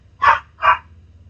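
A dog gives two short, loud barks in quick succession, close by, over a low background hum.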